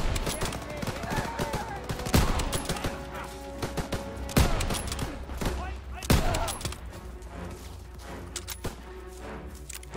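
Gunfire in the World War II shooter Call of Duty WWII: sharp repeated shots and bursts with several loud cracks, rattling against battle background noise.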